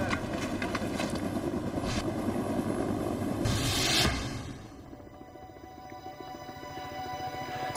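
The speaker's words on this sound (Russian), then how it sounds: "Это вертолеты ВМС." US Navy helicopters approach with a steady mechanical drone that builds, peaks around the middle and then drops away to a quieter hum, with no talk over it.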